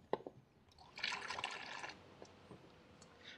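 Water pours into the small cooling-system filler neck of a Nissan X-Trail with a QR25 engine during a head gasket replacement, giving a faint splashing and trickling fill that lasts about a second, with drips before and after.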